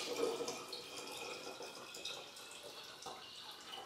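A quart of lime water poured into a container of eggs for long-term storage; a steady liquid trickle and gurgle at close range, fairly quiet, with faint background noise throughout.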